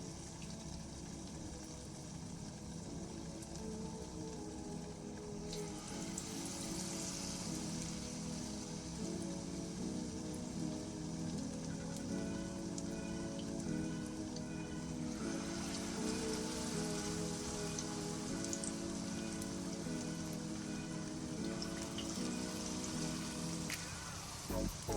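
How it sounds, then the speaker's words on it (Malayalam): Battered banana slices for pazham pori deep fry in hot oil, a continuous bubbling sizzle with fine crackling that holds steady and close, faint background hum beneath, and no speech. "ഇനി നമുക്ക് ചൂടായ എണ്ണയിലോട്ടൊന്ന് ഇട്ട് കൊടുക്കാം."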